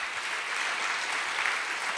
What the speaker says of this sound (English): we got to clap for that one